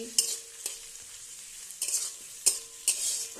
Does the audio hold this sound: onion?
yes